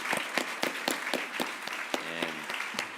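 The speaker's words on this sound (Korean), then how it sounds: "환영하는 우리 박수 드리겠습니다" A church congregation welcomes visitors from First Baptist Church in Hammond with rhythmic unison clapping, loud sharp claps in a steady beat, near and clear, with a brief tonal sound in the middle.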